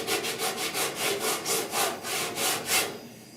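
A sanding block scrapes back and forth over primer surfacer on the dash and firewall of a 1966 Ford F100 truck, about a dozen rhythmic close strokes that then stop. Nobody speaks.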